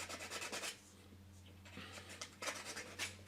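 A nail file sands a thin 3D printed aileron part for a model Beechcraft Staggerwing, soft scratchy rubbing strokes in short bursts, close but quiet.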